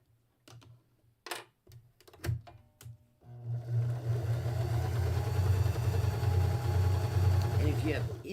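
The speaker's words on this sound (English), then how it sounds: "So just keep going until you have all 4 of your blocks sewn all the way around." A sewing machine stitches quilt blocks, starting with a few short, separate bursts of stitching and then settling into a steady, close, continuous hum.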